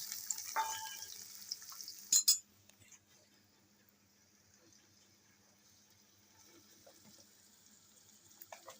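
Onions and tomatoes frying for dhokla make a faint, low sizzle in a pan. Early clinks and a sharp utensil knock break it up near the start, then a quiet steady bubbling follows.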